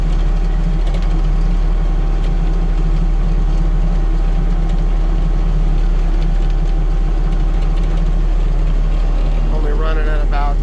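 A cheap AGT flail mower runs loud and steady at about 2,000 RPM, a close, continuous engine drone with a low rumble and no letup.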